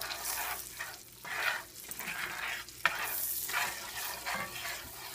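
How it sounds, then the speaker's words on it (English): Flour being stirred into hot grease or oil in a pan for a roux, with repeated scraping strokes over a steady low sizzle, close and fairly quiet, no talking. "And stir it up"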